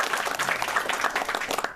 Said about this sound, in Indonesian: Boleh tepuk tangan nggak buat kita?